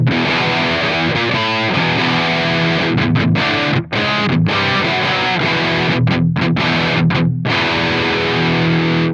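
High-gain distorted electric guitar through AmpliTube 5 with saturated 6L6 power tubes, chugging riffs and sustained chords that stop and restart in short breaks, loud and up close with no talking.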